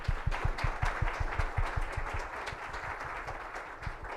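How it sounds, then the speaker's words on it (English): Applause from a breakfast-event audience honoring two speakers, steady clapping at moderate distance with a few sharper individual claps standing out near the start, lasting several seconds without voices. "a round of applause to you two for what you do."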